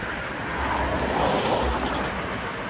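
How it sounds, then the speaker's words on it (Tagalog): A car rushes past at speed on a downhill road, a broad engine-and-tyre whoosh that swells through the middle and eases off, with no talk over it. "Gulat ako sa kotse"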